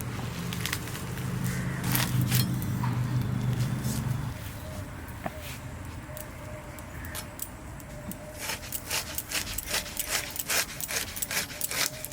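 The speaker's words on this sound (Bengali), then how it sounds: "আগে সর্ষে শাকটা কেটে নিই" Knife chopping fresh mustard greens in a home kitchen, a series of sharp cutting taps that grow denser toward the end, with a steady background rumble early on.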